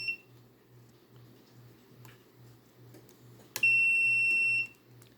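A Fluke 325 clamp meter gives a single loud, steady continuity beep lasting about a second as its probes touch together, after quiet handling noise and a faint periodic tick.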